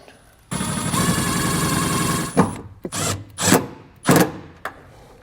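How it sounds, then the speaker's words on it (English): A power drill bores into the sidewall of a 2015 Chevrolet, with one sustained whirring run followed by several short, sharp bursts of the motor, close and loud. "we're going to take that and drive it into our sidewall here"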